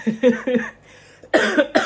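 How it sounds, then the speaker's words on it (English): Several close, loud coughs from one person in a quiet room, a quick burst of three followed by a short pause and then another rough run of coughs. "sorry, I've got a bit of a cough."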